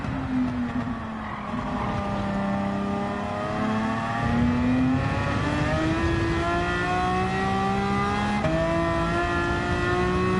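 Dodge Challenger race car engine in a racing video game, about 490 horsepower, revving loud and close, its pitch climbing through the gears in long sweeps, with brief dips at each shift and no talk over it.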